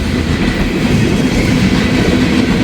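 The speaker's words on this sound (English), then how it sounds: "looks like an empty ethanol train." An empty ethanol freight train passes nearby, its loud, steady rumble and rhythmic wheel clatter sounding alone without any voices.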